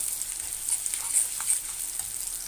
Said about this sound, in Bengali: পেঁয়াজ, রসুন এবং শুকনো মরিচগুলি ভাজা হয়ে আসছে।